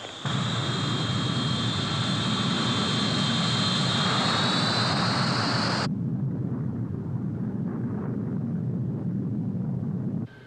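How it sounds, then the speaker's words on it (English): A Trans-Allied airliner takes off with a loud, roaring jet engine rumble and a rising whine, heard up close. The high tone cuts out partway through and leaves a broad engine roar. "Trans-Allied 136, you're cleared for takeoff."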